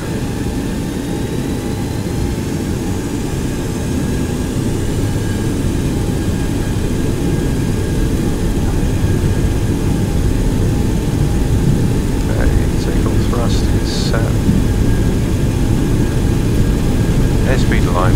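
A propeller aircraft's engine roars steadily and loudly through its takeoff roll, a constant close cabin drone with faint tonal chirps late in the run.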